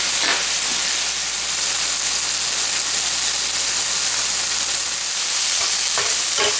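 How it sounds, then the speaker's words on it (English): Chicken and about half a cup of onions fry in a pan, a steady, close sizzle and hiss with occasional stirring scrapes throughout. "I'm going to go ahead and throw in about ½ a cup of onions at this point. Finish frying up with the chicken."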